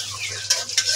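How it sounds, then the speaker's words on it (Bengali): A small chicken cooking in a pan on a home stove, a brief close sizzle with two quick scraping stirs of a utensil, loud and alone. "এই পাশের চুলাতে করতেছি, একটা মুরগির বাচ্চা রান্না করতেছি"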